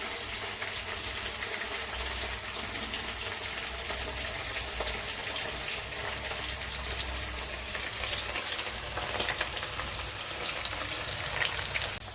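Broad beans fry in oil for a Godavari-style curry, giving a soft, even sizzle and crackle that runs steadily throughout with no voices.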